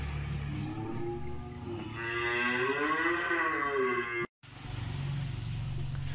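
Cattle low at a livestock market where pairs of cows are being sold: one long, loud, close moo rises and falls over several seconds, followed by a brief gap and steady background noise.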